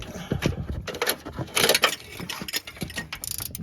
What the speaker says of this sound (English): now I'm using my ratchet wrench to loosen it